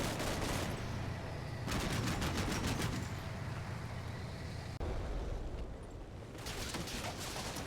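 Armored battle from Combat Mission: Cold War, M60 tanks clashing with a platoon of Soviet BMP-2 infantry fighting vehicles; dense bursts of gunfire and cannon shots come in rapid volleys over a constant rumbling engine and battle noise.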